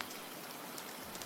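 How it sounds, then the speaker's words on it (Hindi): Steady rain falls in a dense, even hiss of drops on a surface, fairly quiet and without any voices, at midnight outside a house. "रात के 12 बजते ही फिर बारिश शुरू हो गई। पहली बूंद, फिर तेज बारिश।"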